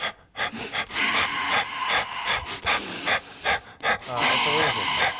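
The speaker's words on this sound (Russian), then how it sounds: "Скандинавская ходьба." Heavy, rhythmic panting breaths with brief sharp taps and crunches, like someone walking briskly with poles, close to the listener.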